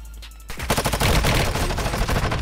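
Rapid bursts of gunfire crackle in Warzone Mobile, the mobile shooter game, loud and close, with dense overlapping shots rattling almost continuously after a brief quiet opening.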